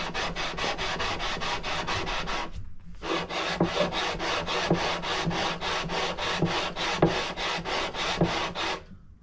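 A sanding block is pushed in steady, even back-and-forth strokes along a wooden guitar fretboard during a refret. The close, loud rasping repeats about twenty times, with one brief pause near the start.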